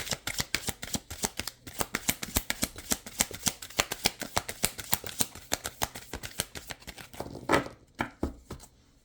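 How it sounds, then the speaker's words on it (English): Tarot cards being shuffled by hand, a rapid run of crisp riffling flicks and taps at close range, steady and rhythmic for several seconds before a brief pause and a final couple of slaps, with no talk. "That's how this deck feels. Shuffling it."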